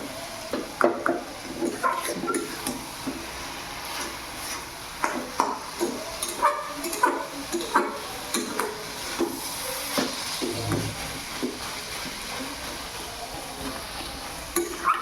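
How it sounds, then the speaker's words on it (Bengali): Greens with sugar are stirred in a frying pan, a spatula scraping and clinking against the metal in an uneven rhythm over a faint sizzle, close and fairly loud throughout. "চিনি দিয়ে একটু নাড়াচাড়া করে নিতে হয়।"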